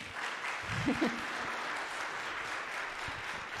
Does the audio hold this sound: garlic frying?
no